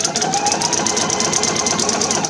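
A sewing machine stitches a sleeve into knit fabric, a close, steady rapid whirring and clatter of needle strokes lasting the whole moment.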